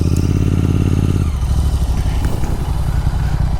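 Royal Enfield GT 650 and KTM Duke 390 motorcycles race close by, engines roaring loudly and steadily, one note dropping after a second as the bikes pull away.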